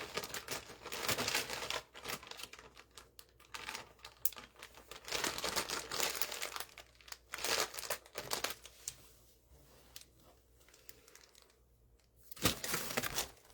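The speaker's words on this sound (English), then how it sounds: "You mean like something like this, like the parchment paper, lay it on that?" Parchment paper is crinkled and handled in repeated bursts of crackling and rustling, some louder and some softer, with short quiet gaps between them.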